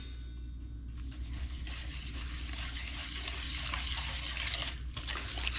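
Granulated garlic stirred into a little warm water in a bowl: a faint, steady, wet scraping and swishing that starts after a short pause and continues softly, with no talking.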